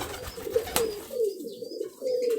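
A female rolling pigeon coos in low, throaty rolling phrases, close and fairly soft, repeating several times alone with no talking.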